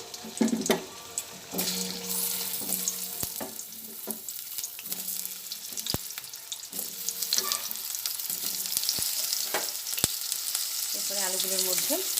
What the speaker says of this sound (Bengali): আলুগুলো তেলের মধ্যে দিয়ে দিচ্ছি দিয়ে ভেজে নিচ্ছি